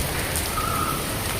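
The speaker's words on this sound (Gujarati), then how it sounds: "આજે તારીખ છે 1 જુલાઈ, 3:30 વાગ્યા છે બપોરના અને વરસાદ ચાલુ થયો છે." A heavy afternoon downpour in Rajkot hammers steadily on surfaces close by, a dense, even hiss of rain with no voices over it.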